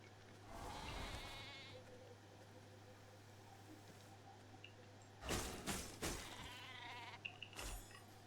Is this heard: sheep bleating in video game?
yes